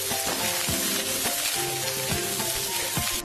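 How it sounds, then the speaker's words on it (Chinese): Snow peas and Chinese sausage with garlic slices sizzle steadily in a wok, while the spatula scrapes and tosses the food at a regular, repeated rhythm close by. "加入荷兰豆翻炒，快速翻炒片刻"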